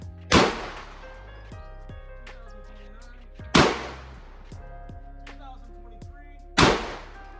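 Three loud, sharp 450 Bushmaster rifle shots ring out about three seconds apart. Each crack trails off in a brief, ringing decay.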